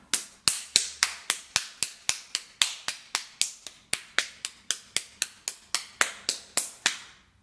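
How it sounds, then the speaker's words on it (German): Tuina massage tapping with half fists or the edge of the hand on the body, a close run of about two dozen sharp, crisp slaps in a brisk, fairly even rhythm. "halbe Fäuste oder Handkante auf dem bestimmten Körperteil klopfen."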